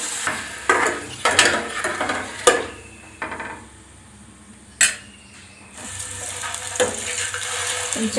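Eggs frying in oil in a pan for a tomato egg curry, a steady sizzle with scattered stirring and scraping clatters and occasional sharp clinks, close and fairly loud throughout with no talk.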